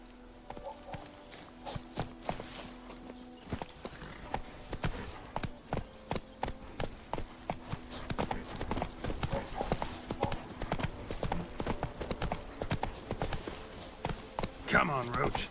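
Roach the horse's hooves clip-clop in The Witcher 3, a steady rhythmic series of sharp hoof strikes that picks up pace midway, under occasional talk and game music.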